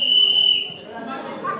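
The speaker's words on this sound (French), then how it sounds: "Il a sifflé la faute." A referee's whistle blown for a foul during a football match gives one sharp, steady blast of about half a second, followed by a low murmur of voices.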